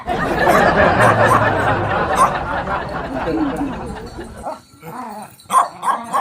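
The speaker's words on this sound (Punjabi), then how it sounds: "ਲਓ ਜੀ ਆਉਂਦੇ ਆ ਸਾਡਾ ਸਵਾਗਤ ਕਰ ਰਹੇ ਨੇ ਕੁੱਤੇ" Several village dogs bark loudly and repeatedly at arriving visitors in rural Punjab. Overlapping barks and yips build to a dense burst, then sharper separate barks follow after a brief lull, with voices chattering underneath.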